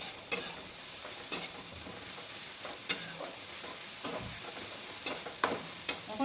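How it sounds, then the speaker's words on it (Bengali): Onions fry in a pan, with a soft background sizzle broken by sharp, irregular spatula scrapes and stirs every second or so, close up and without talk. "এই যে পেঁয়াজটা ভাজা হলো,"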